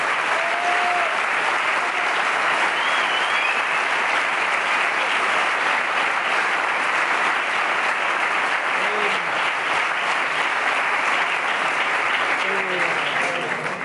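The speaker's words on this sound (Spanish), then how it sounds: "un fuerte aplauso para la Santa" Loud, steady audience applause fills the whole stretch at a live talk event, a dense unbroken wash of clapping with a few faint voices showing through.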